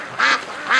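Ducks on a pond, two loud nasal quacks close by, spaced about half a second apart, with no talk.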